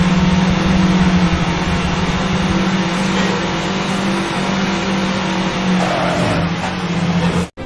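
Street racing cars roar through a nighttime race in a PS2 racing video game, with loud sustained engine drones and shifting revs that hold steady throughout before cutting off abruptly at the end.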